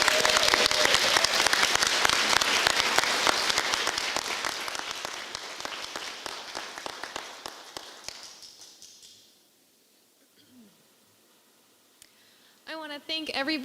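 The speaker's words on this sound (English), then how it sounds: "Give them one last applause" An audience at an educator awards ceremony claps steadily for several seconds, the applause thinning and dying away into a quiet room before a voice begins speaking.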